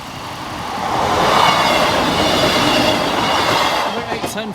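A train rumbles past close by at Boultham Level Crossing, its roar swelling and holding, with rhythmic wheel clatter and a brief squeal as it fades.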